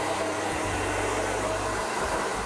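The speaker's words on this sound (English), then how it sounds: "So we've completed the blow drying" A hair dryer blow-dries hair during a styling makeover, its steady roar droning alone and up close without a break.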